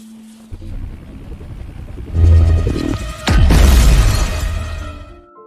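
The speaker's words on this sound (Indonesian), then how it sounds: "Namun drone tersebut malah meledak yang akhirnya menewaskan si dokter." A drone explodes in a film scene: a sharp loud blast with shattering debris and rumble follows a rising engine-like noise, then a long ringing decay.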